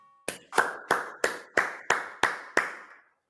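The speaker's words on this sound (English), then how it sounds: "You know what that clapping means" Eight slow, evenly spaced hand claps ring out alone at a steady rhythm, each a sharp, close slap with a short decaying tail, opening a Golden State Warriors podcast segment.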